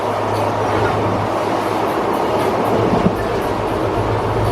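A passenger train running on rails through Karnataka, a loud continuous rumble with steady clatter from the wheels, heard from on board and without speech.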